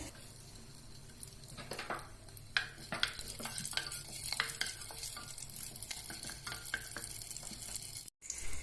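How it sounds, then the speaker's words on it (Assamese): Two bay leaves, three green chillies and whole cumin frying in oil for matar ghugni, a steady close sizzle with repeated spoon stirring and scraping against the pan. "এয়া মই তেজপাত, জলকীয়া আৰু গোটা জিৰা অকণ ভাজি ল'লোঁ।"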